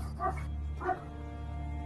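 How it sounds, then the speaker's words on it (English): A dog barks twice in the background, two short yapping bursts with a pause between, set against a steady low hum with no talking. "Do I hear the dog in the background?"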